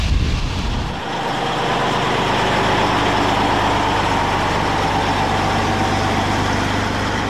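Powerful engines of an Antonov An-225, six Ukrainian-built jet engines producing over 300,000 pounds of thrust, roar in a loud, steady, continuous drone after a short quieter start, with no voices present.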